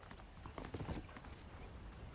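Horse hooves in the western video game Red Dead Redemption, a faint, quiet clip-clop of hoofbeats walking briefly, with no talk.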